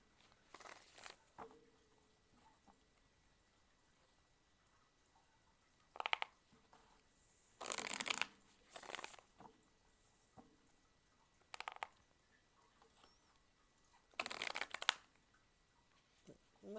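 Tarot cards being shuffled by hand in short, irregular bursts of soft riffling and patting, separated by quiet pauses, close and fairly faint, with no talk.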